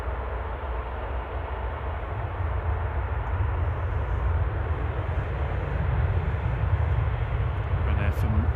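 A plane from Madrid touches down at Manchester Airport. A low, steady engine rumble builds gradually from a distance and stays fairly subdued throughout.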